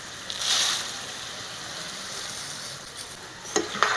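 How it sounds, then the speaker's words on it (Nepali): Sugar fries in a pan for lapsi pickle, giving a continuous sizzle with scraping stirring sounds and a few sharper clinks toward the end. "चिनीलाई एकछिन भुट्छु"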